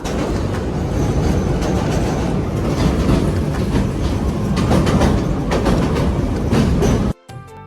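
A passenger train runs between Mymensingh and Dhaka in Bangladesh, its wheels clacking in a steady rhythm over the rails under a constant loud rumble, then cutting off abruptly near the end.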